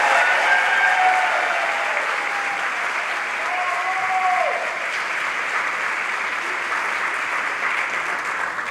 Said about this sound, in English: Please join me in another round of applause for our opening